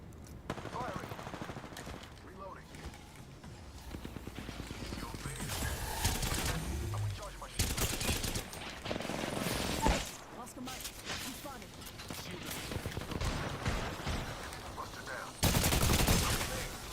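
Automatic weapon fire in the battle royale shooter Apex Legends: bursts of rapid shots over a busy game mix, moderately loud and recurring through the stretch, with voice lines audible.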